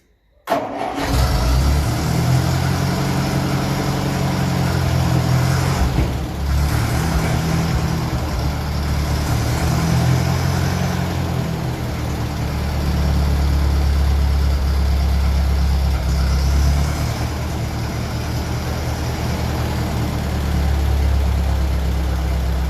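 A 1957 Ferguson 35 tractor running on TVO cranks and catches from cold, then settles into a loud, steady idle with a few dips and surges in engine speed, close by and with no talk.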